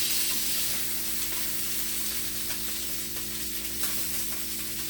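Beef filet steaks sear in a hot pan, a dense, steady sizzle and crackle that stays loud and close without pause.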